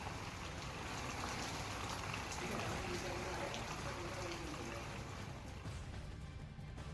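Rain falling steadily in the Uttarakhand mountains at Champawat during snowfall, a dense even patter of drops with a constant wash of noise, moderately faint and without a break.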